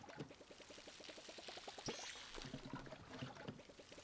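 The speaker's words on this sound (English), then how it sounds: "Wait, I haven't been watering my plants." Water pouring over plants from a watering can in the video game Palia, a soft splashing trickle under a rapid run of chirpy game tones.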